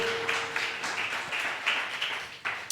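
A church congregation applauding, a dense, moderately loud patter of many hands clapping steadily with slight swells, no voices over it.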